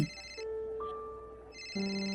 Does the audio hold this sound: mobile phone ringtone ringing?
yes